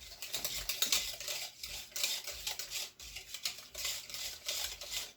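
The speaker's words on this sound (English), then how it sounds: "Stir that around." Spoon stirring cushaw pie filling with cinnamon and nutmeg in a bowl, a faint series of quick scraping, tapping strokes in an uneven rhythm, close and alone without talk.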